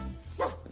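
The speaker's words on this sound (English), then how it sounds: "we certainly can't talk with all this barking going on." A single short dog bark, fairly faint and quick, heard alone in a children's television scene.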